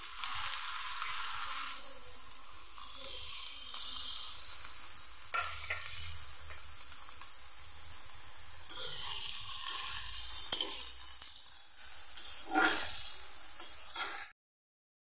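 Potatoes and brinjal fry in hot oil with a loud, steady sizzle close by, broken by occasional stirring noises, before the sound cuts to silence.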